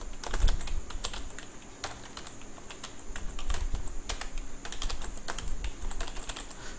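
Rapid, uneven typing on a computer keyboard while code is entered in a Unity C# script. Keys clack steadily and fairly close for the whole stretch, with short pauses between bursts and no voice.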